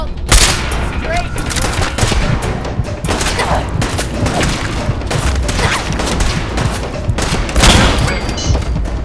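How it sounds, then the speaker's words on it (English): Rapid sustained gunfire in the Fallout 4 Automatron game, a loud dense fusillade of overlapping shots and booms filling the whole stretch, with voices mixed underneath. "Opening fire!"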